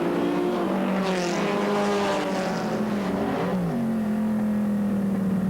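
Onboard view from a classic race car driven by Henri Pescarolo at the Le Vigeant circuit during the 1997 Tour de France Auto, a loud, close engine note that rises and falls through gear changes, with harmonics sweeping up and then dropping.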